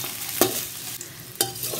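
Onion, cashews and curry leaves sautéed in oil on a low flame for a Tamil yam cutlet, giving a soft steady sizzle with two sharp scraping stirs of a spoon in the pan.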